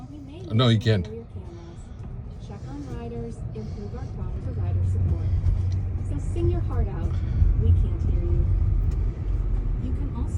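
A driverless car pulls away on the road with a low engine rumble that swells and holds steady, heard close and moderately loud while people talk excitedly nearby.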